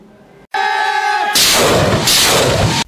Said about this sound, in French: Des tirs et explosions ont retenti dans la localité de Kibumba au Nord Kivu